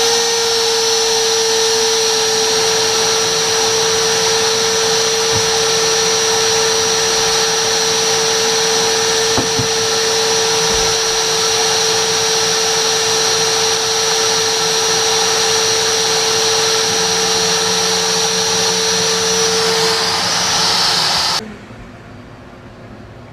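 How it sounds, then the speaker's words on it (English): A shop vacuum collecting dust while a CNC machine cuts carbon fiber for a drone repair, a loud steady whine with a sustained tone, running close for about twenty seconds before abruptly cutting off. "let me turn on the shop vac to gather the dust"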